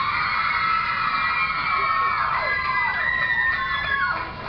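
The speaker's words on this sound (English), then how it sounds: "We thought they were cheering for us," Large crowd of fans cheering, screaming and whooping in a TV studio audience, a loud continuous roar of mostly young shrill voices with rising and falling shrieks throughout.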